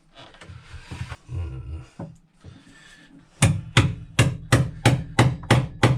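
Oak blocks in the forepeak of a wooden Tahiti gaff cutter are hit about eight times in a steady rhythm, each a sharp, close, loud whack, after a stretch of scraping and knocking.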